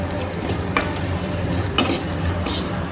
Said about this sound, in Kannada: ಲಾಸ್ಟಿಗೆ ನಾನು ಜೀರಿಗೆ, ಕಾಳು ಮೆಣಸು ಮತ್ತು ಒಣಮೆಣ್ಸಿನ್ಕಾಯಿನ ಫ್ರೈ ಮಾಡ್ತಾ ಇದ್ದೀನಿ